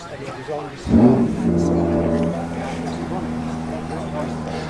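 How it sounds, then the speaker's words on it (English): A Mercedes V8 bi-turbo engine rumbles nearby at a classic car morning meet, rising sharply with a brief rev and then settling into a steady, deep idle, with people talking faintly around it. "A mighty V8 bi-turbo Mercedes alongside that."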